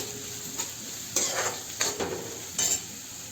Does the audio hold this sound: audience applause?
no